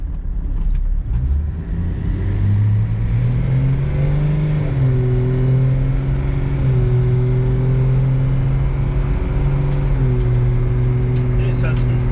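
A Toyota Landcruiser Troopy (M57) accelerates with a steady engine drone that climbs in pitch, drops at a gear change, then climbs again, with another shift near the end, heard from inside the vehicle.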